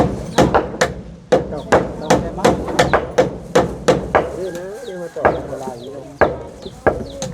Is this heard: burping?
no